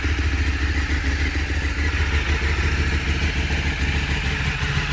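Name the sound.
Ducati Streetfighter motorcycle engine running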